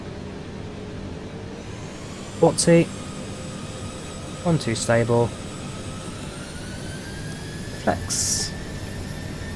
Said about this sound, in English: The engine roar on takeoff.